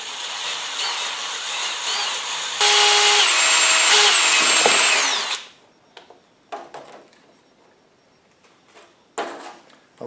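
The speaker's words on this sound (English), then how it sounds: "is where I'm going to drill my hole" Power drill boring a hole through the panel of an Onan P2500i generator: a loud, close, high-pitched whine runs for about five seconds, rises in pitch midway, then cuts off, leaving a few light clicks and handling knocks.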